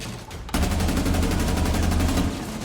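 Rapid sustained gunfire from a firefight in Rainbow Six Siege, a dense continuous burst of shots that starts abruptly after a brief lull and stays loud and close to the end.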